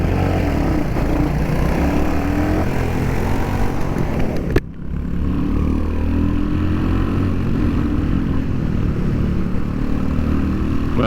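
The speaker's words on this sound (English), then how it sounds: "this motor's super relaxed in 5th gear." A Royal Enfield Hunter 350 cruises in fifth gear, its single-cylinder engine giving a steady, loud low thrum mixed with wind rush throughout, briefly dipping in the middle before resuming.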